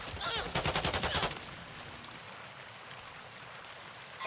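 Rapid automatic gunfire in the online shooter Rank: Control Expo, a burst of about a dozen quick shots over roughly a second, then quiet game ambience.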